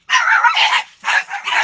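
Two loud, close, harsh bursts of barking or yelping from dogs, with a short pause between them.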